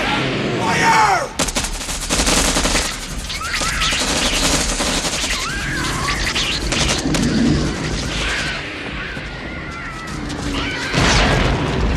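Gunfire from a film battle scene with Marines fighting Martian invaders: dense, loud bursts of shots and crashing impacts crowd the whole stretch, with a sharp initial volley and continuous rattling fire throughout.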